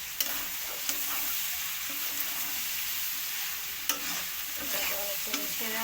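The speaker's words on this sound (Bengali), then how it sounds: "এটাকে একটু নাড়িয়ে মিশিয়ে" Chow mein with fried egg and winter vegetables stirred in a frying pan: a steady close sizzle runs throughout, with a few sharp scrapes and clinks of the utensil against the pan.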